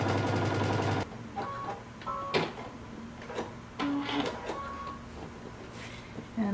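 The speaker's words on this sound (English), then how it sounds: "And we're going to stitch these down before we attach our front to back at the side seams." A home sewing machine stitches down the side seams of a mini dress, short bursts of mechanical whirring and ticking with pauses between runs, close by.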